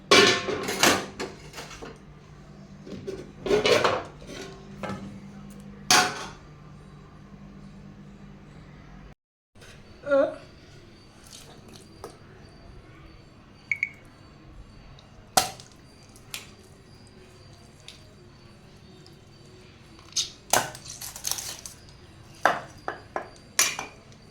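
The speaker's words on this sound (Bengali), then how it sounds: "মাংসটা কেটে নিচ্ছে।" Knife cutting meat with a wooden spatula nearby while cooking in a home kitchen: a run of sharp clinks and chopping knocks, loudest and densest at the start, then sparser taps and scrapes spread through the rest.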